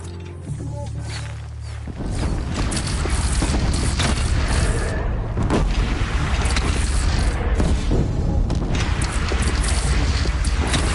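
A bridge in Horizon Zero Dawn blown apart and collapsing: a sudden heavy explosive boom gives way to a sustained loud roar of crumbling debris and rumbling that fills the rest of the scene.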